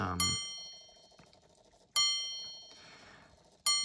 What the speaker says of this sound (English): Let's try the alarm.